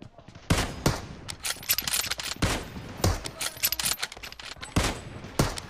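Gunfire rattles through a 1v1 match in a mobile shooter game, sharp bursts and single shots repeating every second or so, loud and close over a quiet background.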